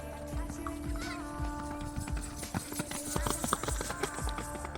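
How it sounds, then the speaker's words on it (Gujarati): A horse trots along a village lane with repeated clip-clop hoof beats in a steady rhythm, fairly close. Voices and background activity carry on beneath it throughout. "જોયું તમે બાદ તબડક તબડક કરતો ઘોડો જાય છે"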